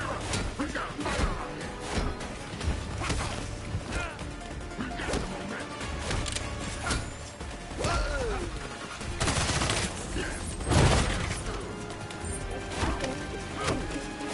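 Video game gunfire and crashing impacts sound in busy bursts over about fifteen seconds, mixed with whacks and explosive hits, while voices talk over the action.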